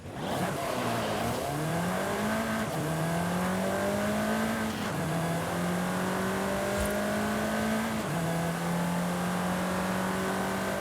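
The 2021 Volkswagen Golf R engine in Forza Horizon 5 revs up repeatedly, climbing through the gears with clear shifts and drops in pitch, loud and steady with no voices.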